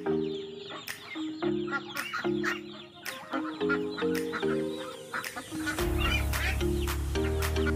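Farm poultry kept in a pen, a chorus of nasal quacking and clucking calls in repeated bursts, close and lively, with a low steady hum beneath in the latter part.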